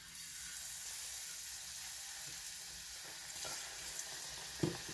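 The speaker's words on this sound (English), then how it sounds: "And we're just going to start frying them one by one." Pieces of tautog fish coated in thin tempura batter fry in hot oil, giving a soft, continuous sizzle and crackle with a brief clunk near the end and no talking.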